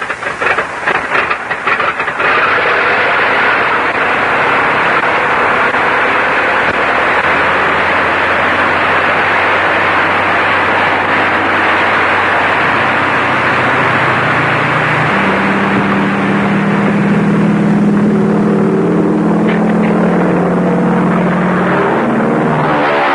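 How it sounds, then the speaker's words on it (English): A propeller aircraft engine cranks and catches on a military airfield, building from sputtering turns into a loud, steady drone that deepens and strengthens toward the end, with no talk over it. "Start the plane."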